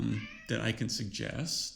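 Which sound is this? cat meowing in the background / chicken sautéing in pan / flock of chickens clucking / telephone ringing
cat meowing in the background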